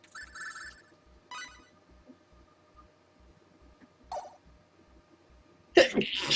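A single sharp sneeze bursts out near the end, preceded by faint ringing tones and quiet background chatter.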